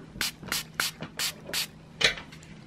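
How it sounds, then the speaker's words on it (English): A Scrubbies bath toy being sprayed from a small pump bottle, six short hissing squirts in a steady rhythm, close and clear with no talking. "let's try spraying and see what happens."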